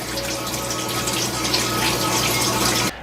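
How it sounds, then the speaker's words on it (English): Steady running water splashes and trickles continuously at close range as a pump lifts it up a tower garden, with a low mechanical hum beneath, stopping abruptly near the end. "This pump lifts water up to the top and then it just trickles it down the entire garden."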